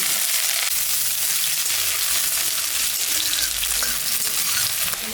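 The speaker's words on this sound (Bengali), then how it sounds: "পেঁয়াজটা ভাজা ভাজা হয়ে গেছে" Sliced onions fry in hot mustard oil with cumin and dried red chillies, giving a steady, close, dense sizzle that continues without pause and without any talk.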